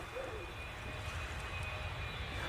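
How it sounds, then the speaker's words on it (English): A fixed-wing airplane passes overhead as a faint, continuous low engine drone with a steady rumble throughout, no voices. "Oh my god, a plane."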